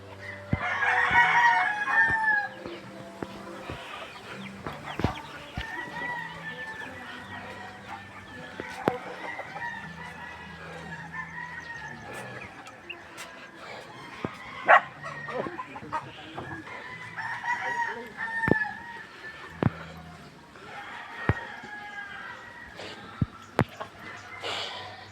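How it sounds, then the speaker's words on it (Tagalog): Gamecocks and hens on a fighting-rooster farm crow and cluck, with several crowing bursts spread across the stretch over scattered clucks and clattering knocks, some birds near and others farther off. "Farm ng mga manok."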